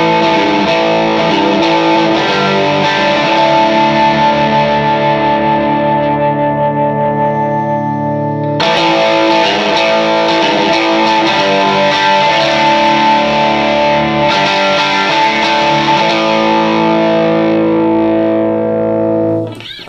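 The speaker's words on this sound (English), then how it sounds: "let's go back to the Banzai and see what happens when we turn the tone knob up" Electric guitar chords ring through a Banzai overdrive pedal with its tone knob turned up, giving a bright, gritty, sustained tone; two long strummed chords are struck and left to ring, loud and close with no talking.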